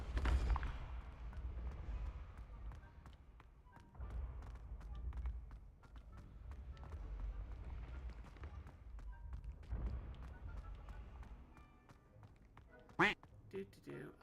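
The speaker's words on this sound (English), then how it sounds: "Hearing a duck." A duck quacks repeatedly in Hogwarts Legacy, faint and intermittent over a steady bed of game ambience and low rumbling.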